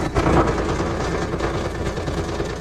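A 2023 tractor with 824 hours on it runs at a steady idle close by, a loud, even low rumble with a rhythmic throb and no talking over it.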